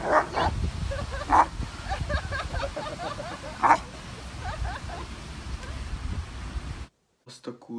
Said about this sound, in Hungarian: mi volt az a kutya, baszki?